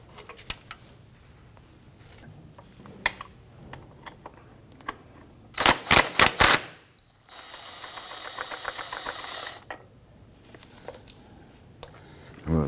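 A swivel socket ratchet loosens two 12mm bolts on a 2011-2015 Kia Sorento, giving a quick burst of sharp clicks followed by a longer stretch of rapid, lighter ratcheting, with scattered taps before and after.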